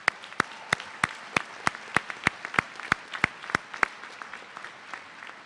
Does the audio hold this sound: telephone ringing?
no